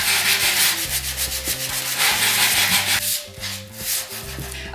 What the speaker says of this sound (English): scratch this all up to give it a more rustic barn house kind of style